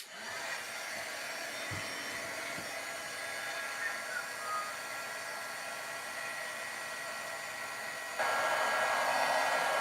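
Heat tool blowing over rose gold embossing powder on a card, a continuous close whooshing hum of the fan and heater that grows louder near the end, no speech.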